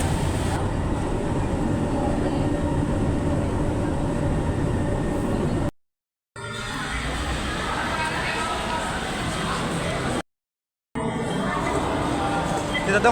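Interior of a crowded MRT commuter train in motion, a steady broadband rumble and rail roar that drops out twice in brief gaps, with people talking throughout.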